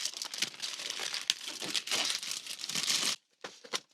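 Packaging of an Aula F75 Max keyboard being unwrapped up close, with crisp crinkling and tearing of plastic and paper in busy bursts. It stops briefly, then a few last rustles follow.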